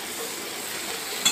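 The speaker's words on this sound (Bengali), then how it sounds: "এবার পেঁয়াজটা কিন্তু আরও ভালো করে ঝরঝরে হয়ে ভাজাটা হয়ে যাবে।" Onion and tomato sizzle steadily in a hot pan, a continuous crackling hiss with a brief scrape of stirring near the end, no voices.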